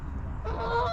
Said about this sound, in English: Those geese aren't going to land.